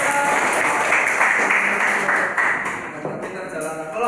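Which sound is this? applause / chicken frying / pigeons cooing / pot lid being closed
applause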